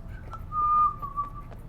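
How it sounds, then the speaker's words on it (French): A short, faint whistled tune from the game Sleeping Dogs, a few thin sustained notes, close by against a quiet background. "faut pas siffler, ça doit vous faire mal aux oreilles"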